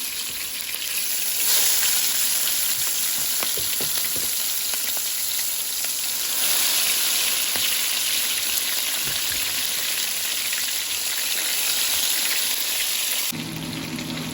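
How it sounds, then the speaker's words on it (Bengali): Shrimp coated with turmeric, chili and salt fry in hot oil for coconut shrimp curry, a continuous dense sizzle with rain-like crackle swelling and easing over several seconds, close and alone. "তেল গরম হয়ে গেছে এবার আমি মাছগুলো দিয়ে দিচ্ছি"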